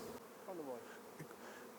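Honeybees buzz around an open beehive, a faint, wavering drone with a few bees passing close by, alone without talk.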